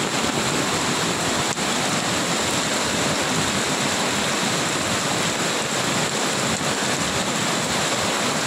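Floodwater from a cloudburst and torrential rain rushes loudly and continuously over a submerged causeway near Kankavli, a dense, unbroken roar close at hand with no voices.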